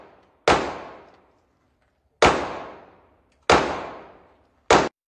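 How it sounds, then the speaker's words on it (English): Four sharp gunshots at a shooting range, each a loud crack followed by a decaying ring, spaced irregularly with quiet gaps, the last one clipped short. "I'm gonna probably include a small clip here of me shooting."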